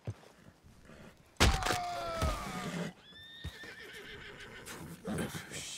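Horse neighing in the video game Red Dead Redemption 2, a loud whinny that rises sharply and trails off, with hoof thumps and a rough horse snort around it.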